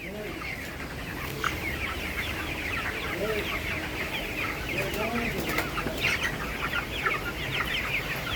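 A flock of near-market-weight broiler chickens on a raised slatted poultry floor clucks continuously in a steady, dense murmur, with scattered louder calls throughout.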